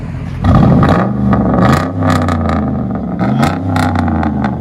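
A 2007 Chevy Silverado 5.3L V8 with true dual straight-pipe exhaust, revved hard several times, loud, close, throaty rumble rising and falling between blips.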